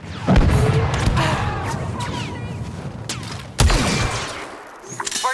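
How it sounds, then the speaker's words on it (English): A rocket launcher fires in the Star Wars Battlefront 2 campaign on the forest of Endor, two loud sharp blasts with rumbling booms, the first near the start and the second a few seconds later, amid battle noise and scattered gunfire. "That's how you do a rocket launcher."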